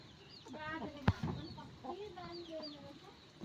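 Chickens cluck softly and repeatedly while being fed, a string of short close calls over a quiet background, punctuated by one sharp knock.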